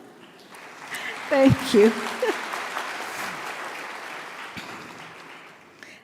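Graduation audience at the University of Nairobi applauds in a broad, steady wash of clapping that swells and fades, with a voice speaking briefly over it.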